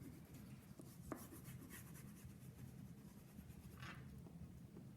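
Lines are drawn on paper in a classroom, making faint, soft, scratchy strokes that run steadily and quietly.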